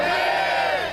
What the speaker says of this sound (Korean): 전주 도심의 만세 함성이 울려 퍼집니다